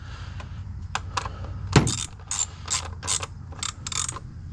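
Ratchet tightening 10 mm coil pack bolts on a 2012-2019 Kia Soul, a run of quick metallic clicking strokes with a clunk partway through, close and clear with a low background hum and no talking.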